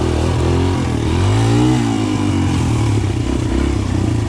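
DZR 125 pit bike engine revving in third gear, a loud close-up buzzing motor that climbs in pitch, then settles into a steady, throaty drone.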